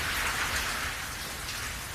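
Heavy pouring rain outdoors at the White House comes down as a dense, continuous hiss, loud and steady with no talking.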